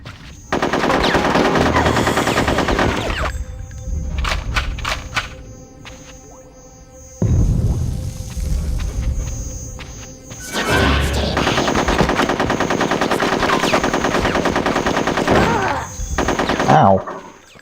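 Submachine guns fire in Conker's Bad Fur Day, long loud rapid bursts of automatic gunfire broken by short gaps filled with game sounds and brief impacts, no talk over the shooting.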